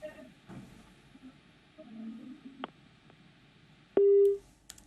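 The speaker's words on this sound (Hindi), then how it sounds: "ओह, फोन कट गया।" A phone line disconnect tone after a caller from Haryana drops off a live commodity broadcast: a short, steady, loud electronic beep that follows faint background noise.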